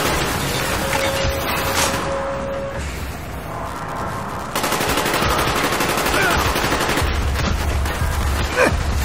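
Rapid automatic gunfire from the video game Call of Duty Black Ops, loud sustained bursts of shots layered with game ambience and effects.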